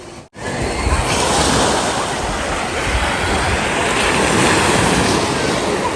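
Steady roar of ocean surf at Frenchman's Cove beach in Jamaica washing in continuously, loud and close, with wind buffeting the microphone and no talking.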